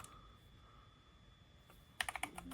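Keys pressed on a SteelSeries Apex Pro Gen 3 keyboard with OmniPoint 3.0 HyperMagnetic switches give a quick burst of close clicks near the end, after a stretch of quiet room hiss.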